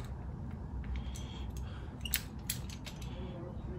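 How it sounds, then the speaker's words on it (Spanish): A screw on an electric bicycle's throttle is tightened by hand, giving faint small clicks and ratcheting ticks over low background hum, quiet and close, with no speech. "aquí vamos a apretar el tornillo del acelerador"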